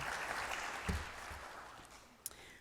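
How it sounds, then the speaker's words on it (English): Audience applause at a community housing and investment talk, faint and thinning, a soft patter of scattered claps that trails off with a couple of isolated sharper claps near the end. "Please join me in giving him another round of applause."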